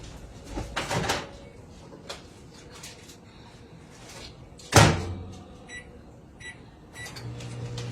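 A microwave oven door clunks shut, a few short electronic beeps follow, and then a low steady hum starts up as the microwave begins running.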